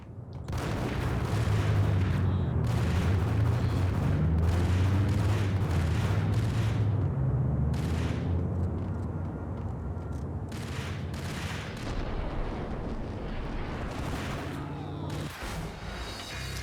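Uzi gunfire in Max Payne: dense, loud bursts of rapid shots and booming impacts pile up through most of the clip, easing somewhat in the second half, with a voice speaking underneath.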